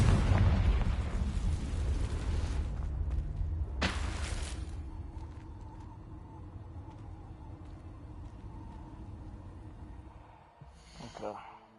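A Confringo explosive spell goes off in the Hogwarts Legacy video game, a sudden sharp blast with a short, booming tail that fades into low game ambience.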